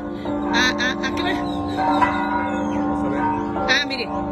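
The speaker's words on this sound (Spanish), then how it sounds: "Miren qué bonito se escuchan las campanadas aquí." Church bells ring out across a town plaza, sustained ringing tones layered with clanging strikes, while a person talks over them nearby.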